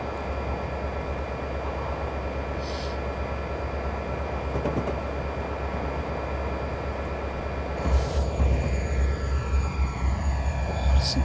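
Union Pacific DDA40X diesel locomotive in a Train Simulator game on Sherman Hill, its deep bass engine rumble droning steadily and growing louder and heavier near the end, with faint high tonal whines above.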